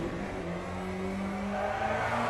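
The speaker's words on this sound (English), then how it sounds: "You hear that every time I'm going onto the throttle. The RPMs pitch up." A race car engine in the Le Mans Ultimate sim rises in pitch as the throttle opens, a steady continuous revving drone with no talking over it.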